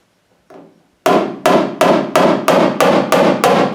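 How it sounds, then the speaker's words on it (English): A hammer taps a dent crest in car roof sheet metal about eight times in a steady rhythm, each strike sharp, ringing and close, after a faint scrape at the start. "So I'll just take my hammer."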